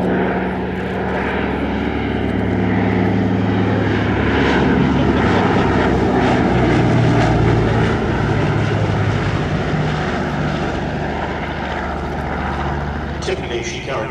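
A PBY-5A Catalina amphibian flies past at an airshow, its piston propeller engines giving a loud, sustained droning roar that swells and holds, with a commentator talking over it.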